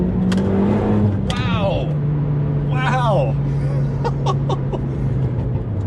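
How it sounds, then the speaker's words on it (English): A Renault Megane R.S. Trophy R hot hatch fitted with an Akrapovic exhaust holds a steady, droning engine note, fairly close and loud, while voices talk and exclaim over it. "The Akrapovic exhaust sounds delicious."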